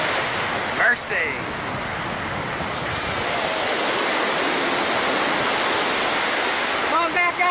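Surf at Myrtle Beach, a steady loud wash of breaking ocean waves filling the whole stretch, with brief voices cutting in at the start and end.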